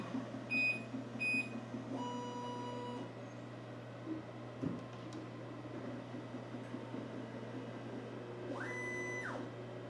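An xTool P3 laser cutter sounds a few short electronic beeps as it powers up, spaced out over a steady low hum from its fan and cooling, with a longer tone near the end.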